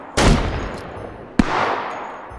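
A fragmenting shotgun round fires in the VR shooter H3VR, one loud close blast with a long decaying tail, then a second sharp shot about a second later, with no talking over it.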